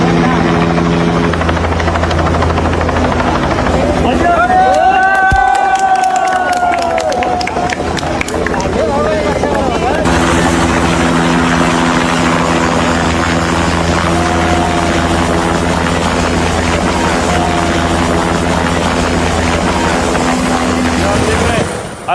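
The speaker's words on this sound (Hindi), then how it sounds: "हेलीकॉप्टर पहुंचा रेस्क्यू के लिए" A rescue helicopter flies over floodwaters in Nepal, its rotor and engine drone loud and continuous for the whole stretch, mixed with crowd noise and music.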